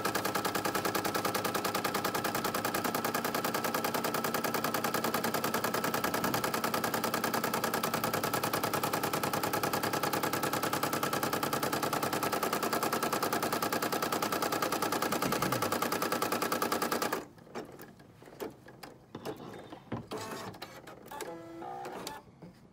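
An embroidery machine stitches a tack-down run, a loud, steady, rapid mechanical chatter that continues unbroken for about seventeen seconds and then stops, leaving scattered faint clicks and handling sounds.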